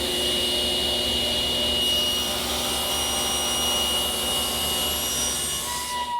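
Table saw cutting a tenon on a corbel blank guided by a miter gauge, a steady loud whine of the spinning blade with a dense, even roar throughout and no pauses.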